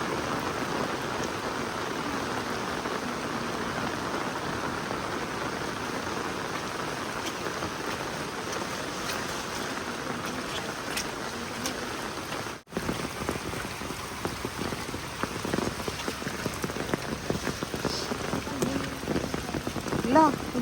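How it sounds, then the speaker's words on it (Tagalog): Steady rain falls on surfaces outdoors at a farm, a dense continuous patter that holds throughout, briefly cut off once midway before resuming just as heavy. "Kaya lang, pagdating ng hapon, umulan naman ng umulan."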